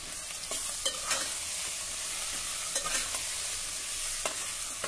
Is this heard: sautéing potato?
yes